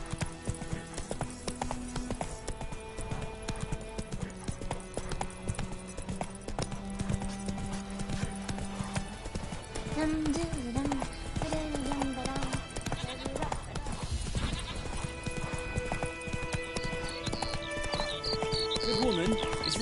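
Hooves of Roach, the horse in The Witcher 3: Wild Hunt, drumming in a steady rapid clip-clop throughout, layered with game music and a voice talking over it.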